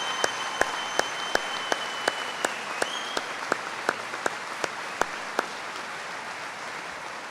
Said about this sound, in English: I would like for you to give a round of applause to your faculty.